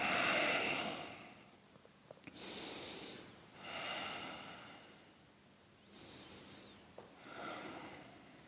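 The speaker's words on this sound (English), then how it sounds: "Breathing in here." Deep breaths during a yoga flow in a core strength practice: slow, close inhales and exhales repeat in a steady rhythm, about four breathy swells with soft gaps between them and no talking.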